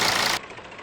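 Mercedes E270 CDI diesel engine idling with a newly replaced alternator overrunning pulley, a brief steady running hum, loud at first and then quieter.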